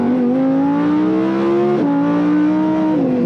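A Lamborghini Huracan LP 610-4 engine revs hard and climbs in pitch, briefly dipping at a quick automatic gear change before rising again, loud and close.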